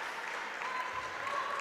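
Spectators at the GSM Forum applaud the players at the end of a Serie C1 Veneto futsal match between Verona Calcio a 5 and Futsal Marco Polo, a steady, moderate wash of clapping throughout.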